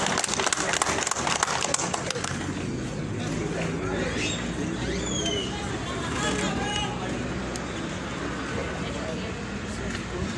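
Crowd applause at a swearing-in ceremony in San Andrés Huaxpaltepec, Oaxaca: a burst of dense clapping at the start that settles into a murmuring crowd with voices and scattered claps throughout.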